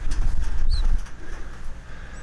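Pigeons in a loft give low cooing and a burst of wing flapping close by, a dense rustling flutter in the first second that settles into softer cooing and shuffling.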